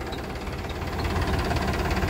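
A Farmtrac 45 tractor engine runs steadily and loud for the whole stretch, with a low, dense rumble and faint knocking pulses, no talking.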